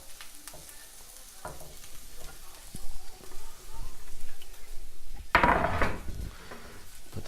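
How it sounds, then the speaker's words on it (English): Onions and mushrooms go into a hot pan together, a quiet clatter of utensils giving way to a louder, steady sizzle with a sharp burst near the end, close up, alongside some talking. "So our onions and our mushrooms are going to go in there together."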